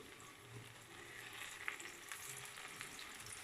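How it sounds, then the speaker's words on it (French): Slices of giant puffball mushroom fry in hot oil in a pan, giving a soft, continuous sizzle with faint crackles and a small pop, quiet and close, with no one talking. "nous allons le mettre dans la poêle une fois que l'huile est chaude"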